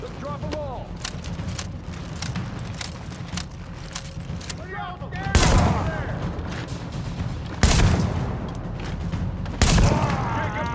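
Gunfire in The Division video game at the Queens Tunnel Camp: three loud, sharp bursts of shots rise over a steady background of clatter, with faint voices underneath.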